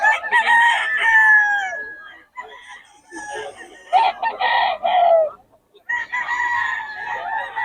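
Lemon Sweater gamefowl roosters at a farm market crow repeatedly, loud and near, with clucking between calls and a voice talking over them.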